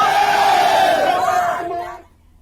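A large crowd of protesting youths at a parade ground roars and shouts together, loud and sustained, then fades away quickly near the end.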